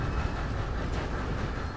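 Train rolling along in Red Dead Online, a steady broadband rumble of wheels and carriage noise running throughout without any voices.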